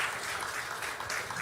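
Steady, dense applause from a church congregation fills the space, a continuous wash of clapping with no break and no voices over it.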